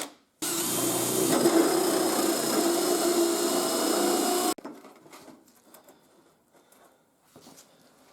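A hole saw bores holes through a custom-built pickup bed panel on a 1960s-style Austin A40, a loud, steady grinding whir lasting about four seconds, then stopping abruptly, leaving faint handling clatter.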